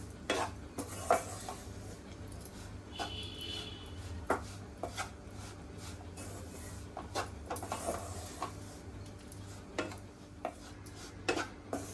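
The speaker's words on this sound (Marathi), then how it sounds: "अगदी स्लो गॅसवरती आपण भाजतो आहे पीठ" Flour roasting in a pan over a low gas flame for gul papdi, quiet scraping and stirring with frequent sharp spatula knocks against the pan, close and soft under a faint steady hum.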